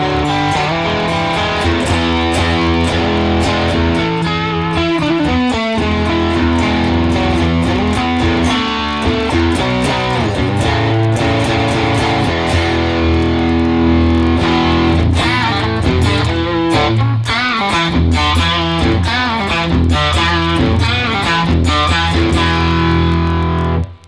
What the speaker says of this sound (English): Okay, so let's try the fuzz. So here's the fuzz.